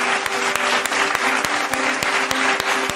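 A short burst of steady crowd applause plays, with dense clapping and a few sharp, regularly spaced clicks running through it.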